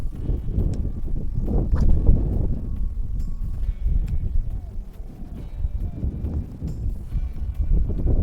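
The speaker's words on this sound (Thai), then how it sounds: "ลมแรงครับ" Strong wind gusts buffet the microphone in a steady low roar while a spinning reel is tested outdoors on a fishing spot, with a few faint clicks and no clear talk.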